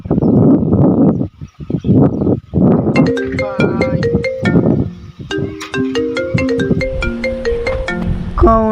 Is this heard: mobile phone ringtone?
yes